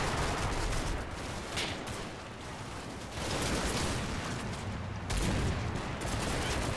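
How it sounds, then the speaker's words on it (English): Sustained gunfire in the Combat Mission video game, from a close-quarters urban fight between German and Soviet troops: dense, continuous crackling volleys with brief dips and surges, loud and unbroken throughout. "he stopped to fire at the Russians, the Soviets, and got shot"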